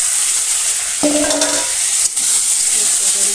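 Potatoes frying in oil with cumin, alongside soybean chunks, in a village kitchen give a steady loud sizzle, with a short tonal squeal and a sharp clink partway through.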